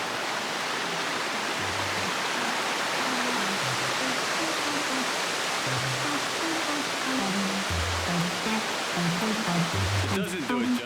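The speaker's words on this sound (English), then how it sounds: "And now to a little bit of waterfall scene." A waterfall pours in a steady, dense rush of broadband water noise that fills the whole scene without a break, with faint low tonal sounds drifting under it.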